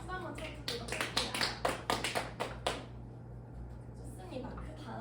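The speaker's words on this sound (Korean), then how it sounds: "우리 세 조 모두 열심히 했으니까 서로한테 박수 한번 쳐주도록 할게요" Classmates in a school classroom give a round of applause of about a dozen quick, fairly loud claps lasting a couple of seconds, then the room falls to quiet murmur.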